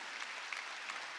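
A brief, soft burst of clapping from a church congregation gathered for a Wednesday service, heard as an even, distant patter with no talk over it.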